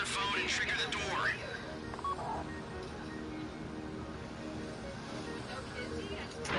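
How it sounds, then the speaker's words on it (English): Phone dialing tones from GTA 5 on PS4, a quick run of short beeping key tones near the start, sounding over game background noise and a voice talking. "Take out your phone and trigger the door."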